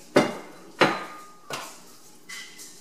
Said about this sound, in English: you will see me add the beans